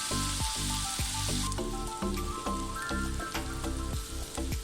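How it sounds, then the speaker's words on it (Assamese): Pounded spices frying in hot oil in a pan, a soft continuous sizzle and crackle with a few sharper pops and taps, fairly quiet and close, with no talking. "এইখিনি এতিয়া মই ভালদৰে ভাজি লৈছোঁ।"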